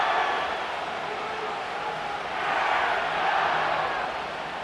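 A large stadium crowd roars at SoFi Stadium in Inglewood in Madden NFL 25, a broad, steady wash of cheering that swells slightly midway.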